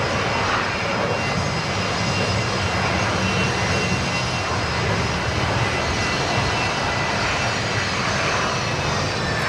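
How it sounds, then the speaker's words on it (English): A Fokker airliner at Brisbane Airport roars loudly and steadily with a broad engine rumble and whine that holds for the whole stretch, with no talk over it. "just hear that Fokker there"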